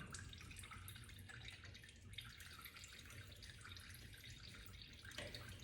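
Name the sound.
liquid draining after car's bottom hose is removed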